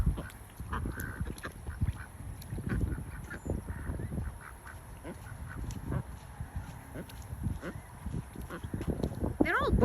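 Ducks and other fowl such as geese quack and honk in a busy mixed flock outdoors, with repeated calls overlapping at close range throughout and a sharper burst of calls near the end.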